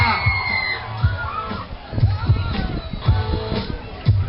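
A live audience at an Extreme Duudsonit show in Raisio whoops, shouts and cheers in repeated loud bursts, with children's voices mixed into the crowd noise.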